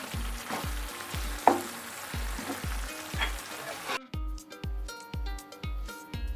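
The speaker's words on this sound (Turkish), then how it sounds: "Etimiz pişti baharatlarını ekleyip karıştırıp daha sonra kapatalım altını" Meat for hünkar beğendi sizzles in a pan as spices are stirred in, a steady frying hiss under background music with a regular thumping beat.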